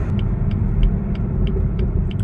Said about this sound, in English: they're one of the better sounding BMW motors in a while